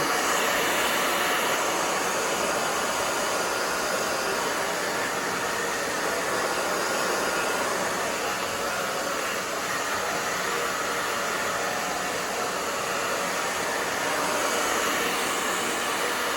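A hair dryer blows loud and steady while drying a short pixie cut on coarse hair, a constant close airy roar lasting the full stretch with no pauses.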